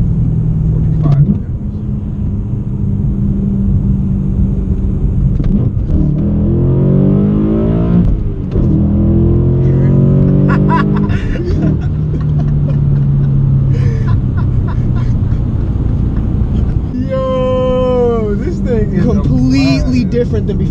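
A BMW E92 M3 with manual gearbox accelerates hard, its intake and engine rising in rpm through the gears from inside the cabin, with people talking over the engine throughout.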